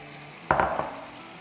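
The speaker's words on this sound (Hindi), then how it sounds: "तेल डाल के और इसमें डालेंगे एक ये भर के अंडा और कीमा जो हमने बनाया था" Egg and minced keema dropped into hot oil in a pan for a paratha roll, a sudden sizzle that swells then fades, close and moderately loud with no talking.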